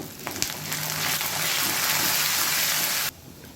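Garlic and curry leaves sauté in hot oil for a Tamil garlic chutney, a loud close sizzle and crackle that swells, holds steady and then cuts off abruptly.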